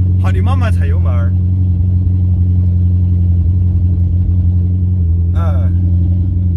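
Ferrari engine under throttle, a steady loud low rumble with harmonic engine tones running throughout, while people talk briefly at the start and again near the end.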